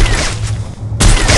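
Gunfire sounds from a mobile battle-royale shooter played on an iPhone 8 Plus, loud bursts of shots that fill the clip, drop briefly, then return hard near the end.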